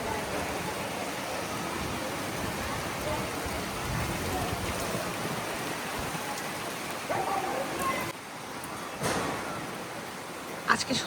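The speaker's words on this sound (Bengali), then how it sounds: "একদম তুফান বৃষ্টি" Heavy stormy rain pours steadily, a dense loud hiss throughout with brief shifts near the end, and faint talk may sit beneath it.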